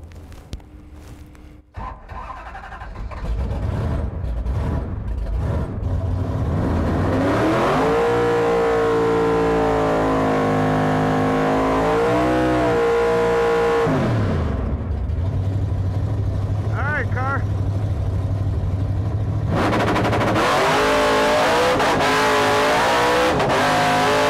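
A drag race car built for Drag Week 2024 revving and then launching on a pass at dusk, a loud, close engine climbing through its revs, bouncing off the rev limiter, dropping briefly for the 1-2 shift and pulling hard again.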